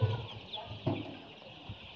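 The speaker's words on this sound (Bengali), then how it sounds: "আমাদের মুরগিগুলো কিন্তু খুবই ভালো আছে যেটা দেখতেই পাচ্ছেন সোনালি সুপার হাইব্রিড" Sonali super hybrid chickens cluck and murmur inside a poultry farm shed of about 2,800 birds, a soft, close flock chatter with a few brief louder calls.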